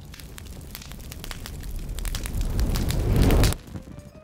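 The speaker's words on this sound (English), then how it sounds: "I really like the sound of fire." A fire burns in a scene from The Haunting of Bly Manor, a steady crackling roar with scattered pops that swells louder and then cuts off abruptly near the end.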